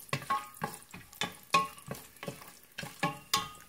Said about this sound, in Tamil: இப்போ இதில் அந்த முந்திரி திராட்சையும் போட்டுக்கலாம். நல்லா மிக்ஸ் பண்ணி விட்டுக்கலாம்.